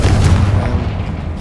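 A Confringo spell exploding in the Hogwarts Legacy video game: one deep, loud, rumbling boom that fills the moment and slowly fades.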